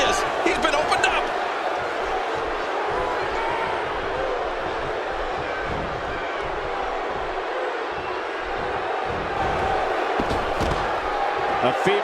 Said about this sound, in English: The crowd is buzzing.